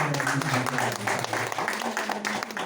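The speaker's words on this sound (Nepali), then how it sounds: "एकचोटि जोरदार तालीले उहाँलाई सम्मान" An audience at a calendar launch claps in steady, sustained applause, loud and dense throughout, with a voice faintly beneath it.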